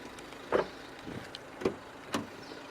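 Electric windows on a Renault Clio 1.5 dCi Dynamique five-door hatchback operate in a few short, faint whirring bursts separated by quiet gaps, with no talking.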